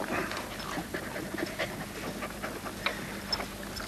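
Dogs visiting a children's television play school set in 1989, with close, steady panting breaths and small restless noises under light background activity, no clear talk.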